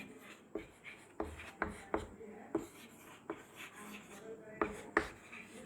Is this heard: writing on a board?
yes